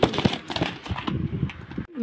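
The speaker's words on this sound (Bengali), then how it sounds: "এই আপনার কবুতরগুলা 3 পিস লাহোরি, 2 পিস কোকা" Lahori and Koka pigeons coo in a loose run of soft, low calls, fairly close and moderately loud, with some rustling and shuffling around them and a brief drop to near silence toward the end.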